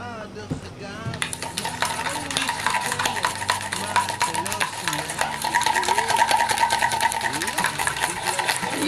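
A motor whirs steadily while homemade mayonnaise is made, sounding like a modest electric blender rather than a powerful one. A brief voice comes first, then the continuous hum builds with light rattling and clinking.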